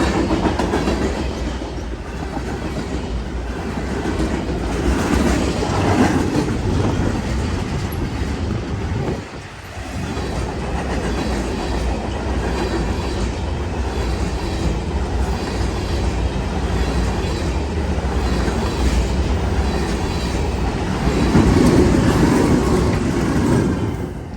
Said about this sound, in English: this military train with all its cargo